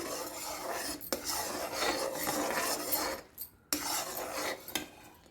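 A spoon scrapes and clinks against a pan while cardamom powder is stirred into hot sugar syrup, with steady close rasping strokes and a few sharp knocks, no voices.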